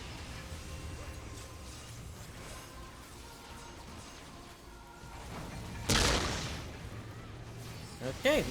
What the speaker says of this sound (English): Alright, energy barrage.